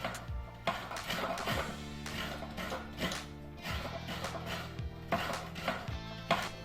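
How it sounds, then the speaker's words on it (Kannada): Rhythmic scraping strokes of coconut being grated, repeated steadily at close range with occasional sharper knocks. "ಆಮೇಲೆ ತೆಂಗಿನಕಾಯಿನ ಒಂದು ಅರ್ಧ ತುರ್ಕೊಳ್ಳಿ."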